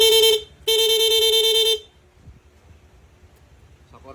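A loud, bright electronic horn on a Honda Click V2 scooter blares in rapid mode, two rapid bursts, a short one then a longer one, followed by quiet with faint background noise.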